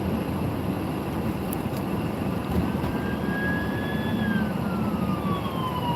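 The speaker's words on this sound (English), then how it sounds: "police cars down here. Shit." Police car sirens wail at a road accident scene, heard faint and distant as a slow rising and falling tone over steady loud road and engine rumble from a moving car.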